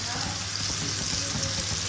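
Paneer frying in desi ghee on a non-stick tawa: a steady soft sizzle with fine crackling pops, close and continuous.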